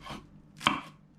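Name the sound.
chopping sawtooth coriander into small pieces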